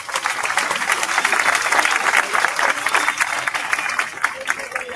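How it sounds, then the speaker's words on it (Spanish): Audience applause following a storyteller's performance at a spoken-word festival at a university, a dense, steady wash of many hands clapping throughout, moderately loud with a slight fade near the end. "Un aplauso"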